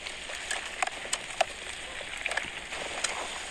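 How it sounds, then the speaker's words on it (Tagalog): Meat for adobo sautés in a pan, giving faint, scattered crackles and small pops over a soft, steady sizzle, close up and with no talking. "Ilagay ang dot carne at tigisa."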